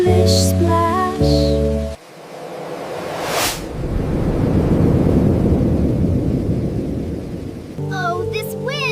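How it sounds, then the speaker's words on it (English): A stormy rainy day: a loud, steady roar of wind and heavy rain with a thunder crack near the start, running for several seconds between bursts of music. "Oh, this wind!"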